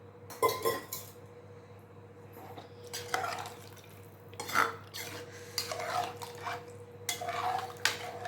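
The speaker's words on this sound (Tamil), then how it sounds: "நல்லா வந்து மிக்ஸ் பண்ணிக்கலாம்." Veg biryani being mixed with water in a cooking pot: repeated spoon or ladle scrapes and clinks against the metal pot, with soft wet stirring sounds in between, close and moderately quiet, no talking.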